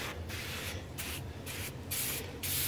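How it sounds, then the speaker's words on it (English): A hand spray bottle squirts onto a BBQ pit smoker before scrubbing, about five quick, close, sharp spritzes in an uneven rhythm over a low background hum. "I'm gonna spray a little bit more on it just to,"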